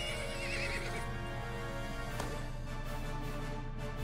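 A horse whinnies in the Disney Infinity video game, a single call early on over a steady game background hum, with hoof sounds faintly near the end.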